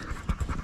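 Dogs pant rapidly in 108-degree dusty heat, a quick, close, breathy rhythm of several short huffs with no voices.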